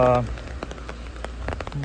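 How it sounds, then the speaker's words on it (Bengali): Rain patters steadily at Jhakri Falls Park in Gangtok, with sharp nearby drops ticking through a constant hiss and a voice briefly heard at the start and end. "ভালোই বৃষ্টি শুরু হয়েছে।"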